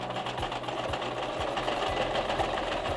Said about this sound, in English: you're just gonna spin this and sew again along that line